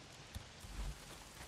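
Heavy rain falls in the Days Gone video game, a steady dense wash of downpour noise with a couple of soft low thumps, no talking.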